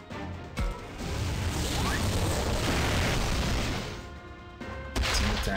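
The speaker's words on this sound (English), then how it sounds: "Infinity cannon." An infinity cannon attack fires in the Digimon Survive video game, a dense, sustained explosive crash and roar lasting several seconds, with sharp bursts at the start and end.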